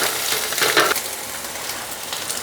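Beaten egg is stirred in a hot frying pan while cooking egg idiyappam, giving a close, steady sizzle with soft scraping strokes; one louder burst comes early and no one speaks.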